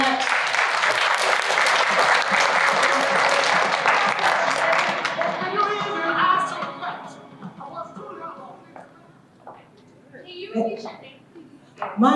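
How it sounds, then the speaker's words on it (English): Audience applause for a panel at an evening event on AI and the future of work, a dense, loud burst of many hands clapping that thins and fades after about six seconds, with voices breaking through near the end. "One more round of applause for our panelists."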